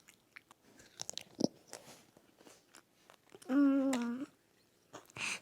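Crunchy Filipino snack being chewed up close, with a series of short crisp bites and crunches scattered through quiet pauses and a brief hum of a voice.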